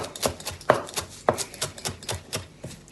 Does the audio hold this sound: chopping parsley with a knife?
yes